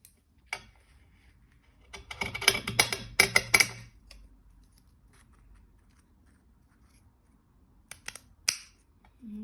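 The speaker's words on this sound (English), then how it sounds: "I'm going to lay it on my fabric and have a go at the cutting round" Scissors cutting around a shape in fabric, a quick flurry of crisp snipping and clicking blades for a couple of seconds, then quiet with a few isolated snips near the end.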